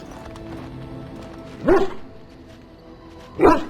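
A dog in the Dragon Age video game barks twice, roughly two seconds apart. Each bark is a short, clear burst over a steady low background hum.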